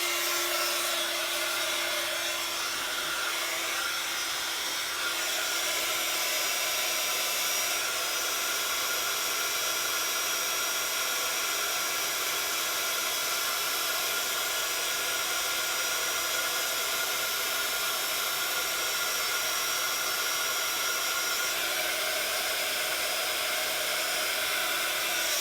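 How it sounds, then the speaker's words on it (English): A handheld craft heat tool blows steadily for a long stretch while heat-setting embossing powder on a stamped sentiment, a constant close whooshing hiss with no pauses. "with my heat tool."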